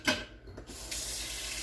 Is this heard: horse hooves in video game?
no